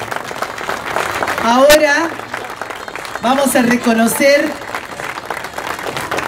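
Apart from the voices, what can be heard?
applause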